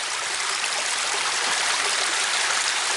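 Steady, loud rush of flowing water fills the whole span, a constant broadband churn like a stream or small cascade close by.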